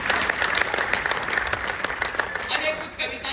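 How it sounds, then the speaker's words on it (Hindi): Audience at a Hindi poetry gathering claps loudly and steadily, a dense continuous round of applause from a crowd, with a voice briefly audible beneath it near the end. "एक बार हिंदी के सम्मान में जोरदार ताली बजा दीजिए।"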